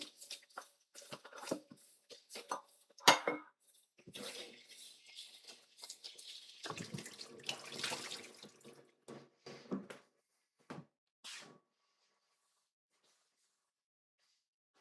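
Tap water runs in a kitchen sink while dishes and utensils clatter during cleanup of a cooking station, with irregular splashes and clinks at moderate distance, then a stretch of near silence toward the end.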